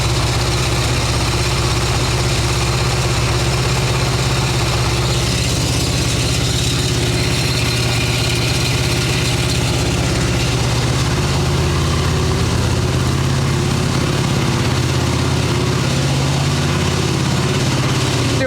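A 1989 Harley-Davidson Ultra Classic bagger idles on full choke with a possible intake leak, a loud, close, steady low rumble with uneven pulsing that holds for the whole stretch, no voices over it.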